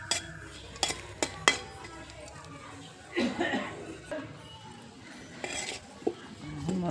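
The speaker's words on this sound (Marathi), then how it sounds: "आणि आता खोबरं तळून घेऊ" Grated coconut being fried and stirred in a pan over a wood-fired stove, with scraping and clinking of a utensil against the pan, a few sharp knocks and a soft sizzle, while a person talks.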